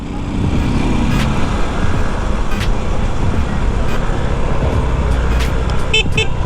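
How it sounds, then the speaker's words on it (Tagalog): Traffic roars steadily while the thin, weak horn of a Rusi Surf 125cc motorcycle toots a few short times near the end, barely rising above the engine and road noise. "Ang hina ng busina."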